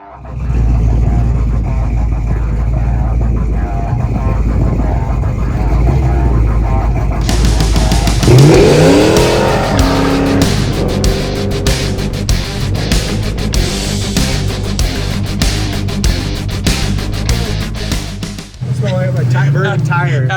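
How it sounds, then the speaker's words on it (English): A muscle car's loud engine roars steadily, then revs hard into a long screeching, rough burnout tire spin that runs for several seconds before cutting off abruptly. "After that burnout,"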